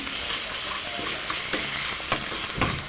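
Ginger paste hits onions that are already fried and fizzes loudly and steadily in the pan, with occasional sharp clicks and scrapes from stirring and no talking.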